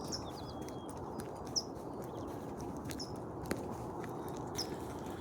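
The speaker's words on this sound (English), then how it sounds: "Hear the birds chirping, singing." Birds in autumn woods along a hiking trail give a few short, high chirps spaced a second or so apart, faint over a steady outdoor hiss with falling leaves around.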